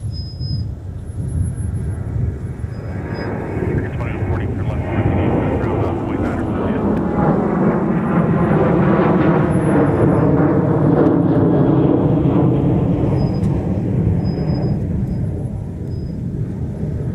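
A Sun Country jet airliner departs MSP airport, its roar swelling into a loud, sustained rumble that peaks midway and then slowly fades, with no talk over it.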